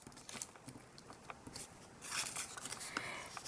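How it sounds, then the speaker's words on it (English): Scissors snip through paper while a tulip shape is cut out, a faint string of short crisp clicks and rustles followed by a slightly louder stretch of crinkling paper. "And then you cut up from the bottom into the middle."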